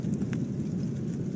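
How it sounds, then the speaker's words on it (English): Volcanic tephra rocks raining down during the Kīlauea summit eruption, a dense pattering hiss of falling debris over a low continuous rumble, steady throughout with no voices. "There's raining rocks."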